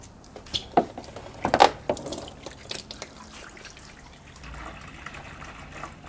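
Water poured from the main tank of a small DIY aquaponics setup holding tilapia: a few sharp drips and splashes early on, then a softer, steady trickle of running water.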